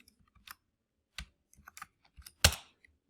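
Typing on a computer keyboard sounds as a few sparse, separate key clicks followed by one sharper, louder clack near the end, close and with no talking.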